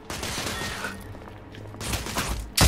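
Gunfire in the video game The Order: 1886 on hard difficulty, a dense rattle of shots and booms across the whole moment, with a sharp burst at the end.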